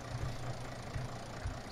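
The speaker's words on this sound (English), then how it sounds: "This is the only tractor in the fleet that will actually do the plowing." Tractor engine idling in Farming Simulator 17, a steady low rumble with faint periodic throbs, continuous and even with no talking over it.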